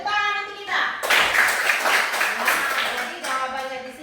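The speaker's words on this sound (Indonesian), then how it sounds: "Tepuk tangan untuk kita." A small group claps hands for a couple of seconds, a dense burst of close applause that swells and fades, with a voice speaking before and after.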